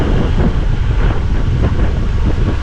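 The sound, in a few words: strong wind blowing over rice fields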